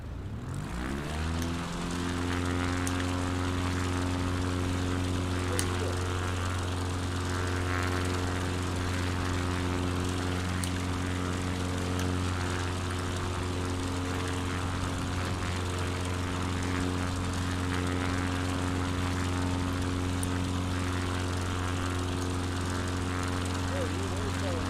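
A propeller airplane takes off from an airstrip in a video game, with a loud, steady engine drone and strong harmonic tones rising briefly at the start before holding level throughout.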